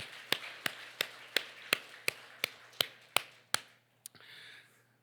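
A church congregation at a Korean Sunday festival worship service claps in a steady, evenly spaced rhythm, about ten crisp claps that stop abruptly, leaving a faint murmur.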